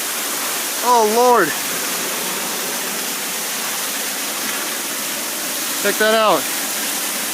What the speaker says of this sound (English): We're right under the waterfall. 220-foot waterfall.